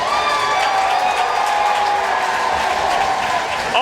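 RPI Engineers hockey fans fill an arena with loud, sustained applause and cheering after a goal is confirmed, a dense crowd roar that barely changes over a few seconds.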